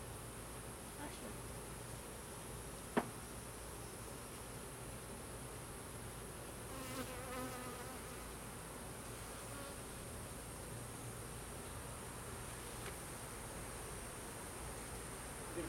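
Honeybees buzzing down inside a beehive, a continuous, faint insect drone with a few brief clicks, with some low background noise and no clear talking.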